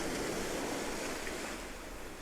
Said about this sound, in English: why do we still have the sound of waves rushing up on the shore?